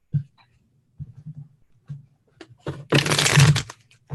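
A deck of playing cards is shuffled at a psychic-themed fun night, with a few soft card taps followed by a loud, dense riffle lasting about a second, close to the mic.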